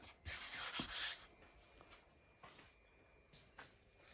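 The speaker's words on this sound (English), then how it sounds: "I'll have a good sand up, getting rid of these sharp edges." The sharp edges of a wooden chopping board are sanded by hand in a few close, scratchy rubbing strokes, the first burst loud and the later strokes shorter and softer.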